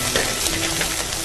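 Garlic, ginger and chili paste sizzles and fries steadily in a pan, a close, constant crackling hiss with faint stirring throughout the short moment.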